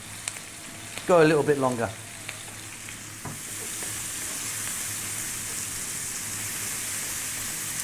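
Bacon fries over high heat in a pan, giving a steady, close sizzle with a few scraping stirs; a person talks briefly near the start.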